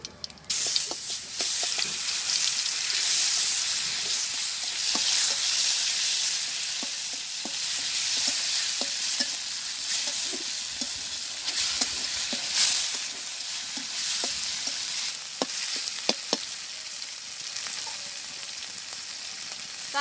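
Whole cumin seeds and a bay leaf sizzle and crackle in hot oil in a Bangladeshi village kitchen, with a steady loud frying hiss, stirring scrapes and sharp pops throughout and no talk.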